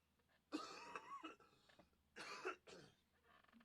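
Two bursts of harsh coughing, close up, separated by a short pause, with no talking.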